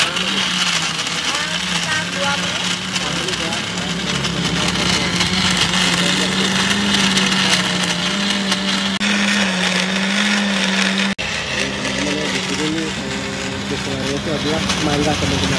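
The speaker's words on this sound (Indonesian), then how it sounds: "di blender kita lihat di dalam ini" A blender whirs loudly and steadily while crushing ice with milk and fruit for an avocado smoothie, a constant close motor drone with grinding texture, as people talk over it.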